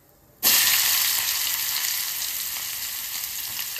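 Onion dropped into hot oil with asafoetida, bursting into a loud, sudden sizzle that holds steady and slowly eases over a few seconds.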